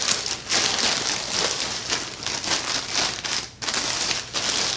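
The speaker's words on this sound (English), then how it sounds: "I'm just gonna rip it open." A big white plastic subscription shipping bag being ripped open, giving a steady, close crinkling and tearing rustle that runs throughout without pause.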